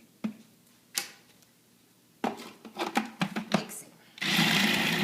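A electric mixer whirs steadily through cookie or cake batter, switching on loud and continuous near the end after scattered kitchen clatter and brief talk.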